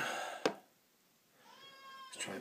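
A tired cat meows in the background of a quiet room during a Rolls razor shave: one short sharp burst, then a longer rising whiny meow near the end, with no talking.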